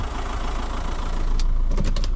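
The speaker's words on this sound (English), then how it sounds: "I did notice a whine as I put it into drive." A car's engine idles steadily as it is shifted into drive, with a faint, thin whine rising briefly near the end over the low rumble.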